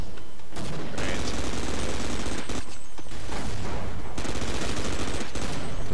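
A light machine gun fires long, loud, sustained bursts in the shooter game Half-Life: Opposing Force, with dense, rapid shots broken only by brief pauses.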